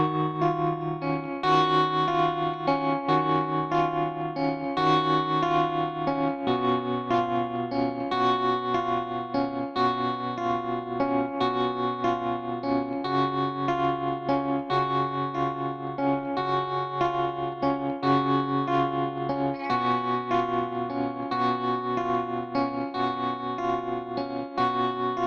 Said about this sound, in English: We're going to start off with this hypnotic riff that sounds like this.